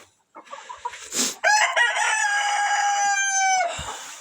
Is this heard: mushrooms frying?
no